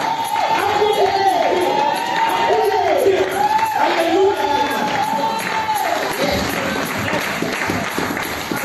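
A church congregation claps and cheers loudly and continuously, with whoops and shouted voices rising above the applause.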